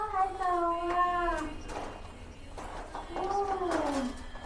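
A cat meows twice on a Mui Wo hiking trail beside an old mine tunnel. Each call is a drawn-out, wavering meow, fairly close, with a quiet pause between them.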